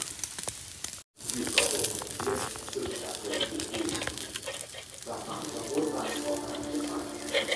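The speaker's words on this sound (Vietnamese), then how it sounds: "Đấy, đã nghe tiếng mỡ nó chảy xuống lục đục lục đục lục đục." Lemon-leaf marinated pork on skewers grilling outdoors, fat dripping into the fire with a steady crackling sizzle, close and continuous, broken by a brief gap near the start, with faint birds in the background.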